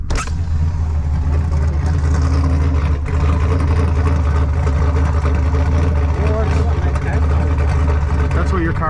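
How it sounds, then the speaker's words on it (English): An old car engine running badly, a loud, steady low rumble with a rough, uneven drone throughout, close by, while people talk over it. "That's what your car sounds like?"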